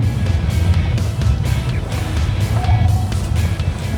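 Interior of a Zeekr 8X driving over ordinary paving tiles, a loud continuous low rumble of tires and road noise with rhythmic bumps from the tile joints, close and steady with no talk.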